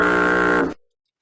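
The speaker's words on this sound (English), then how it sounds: "They're honking their boat horns." Big boat horn sounding near a waterfront, one loud sustained blaring tone that cuts off abruptly, followed by silence.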